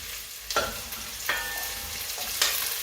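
Onions fry and sizzle in a pan for a chicken curry, with a steady hiss broken by about three sharp bursts of splatter as a spoon stirs them, heard close and alone.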